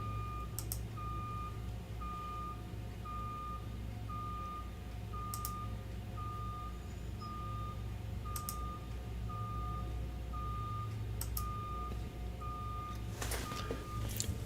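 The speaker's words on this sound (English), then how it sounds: "Would you stop with it beeping outside?" A truck's reversing alarm beeps steadily outside, repeating at an even pace in the distance over a low continuous rumble, with a brief burst of noise near the end.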